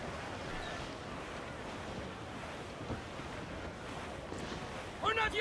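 Wind at sea in the pirate-era sailing game Assassin's Creed IV Black Flag, a steady broad rush blended with surf and waves against a ship, constant throughout, with a brief brighter swell near the end.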